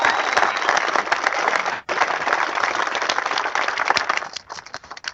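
Rally crowd applauding in a steady, dense wash of clapping that runs for several seconds, breaks off briefly, then resumes before thinning out at the end.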